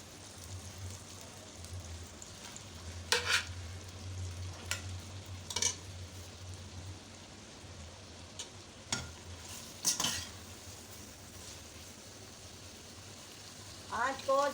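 Mutton keema stirred and frying in a karahi over medium heat, giving a quiet, steady sizzle broken by several brief scraping stirs, with a low hum underneath.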